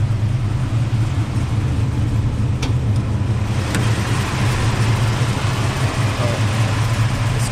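A 1962 Dodge Dart with a 440 engine runs at a steady, loud idle, its deep rumbling drone continuous and close, broken only by a couple of faint clicks.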